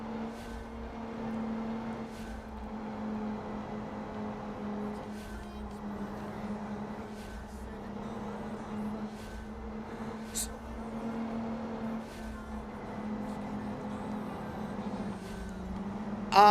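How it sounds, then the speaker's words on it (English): Racing cars in a racing video game hum steadily at a low, faint level, a constant engine drone with rhythmic repeating pulses and occasional small clicks. "No, the car audio sound fine for me."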